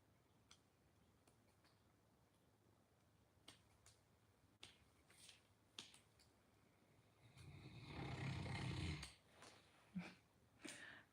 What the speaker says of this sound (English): Did you hear Mando snore just now?